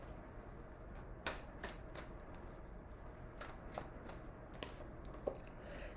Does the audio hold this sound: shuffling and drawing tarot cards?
yes